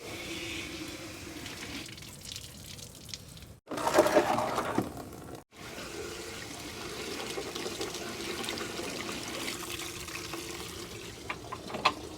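Water running through the cooling system of a Cadillac engine that sat for over 30 years, a steady close splashing flow with a brief louder gush partway through, alone without talk.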